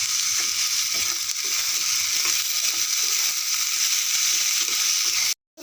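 Potatoes sizzling steadily in hot oil for a samosa filling, a dense continuous frying hiss close up that cuts off abruptly near the end.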